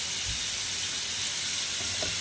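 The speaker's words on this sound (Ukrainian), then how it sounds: "Поки смажиться наше м'ясо." Steady, bright sizzling of chicken frying in a hot pan, close and continuous, with a couple of faint low thumps.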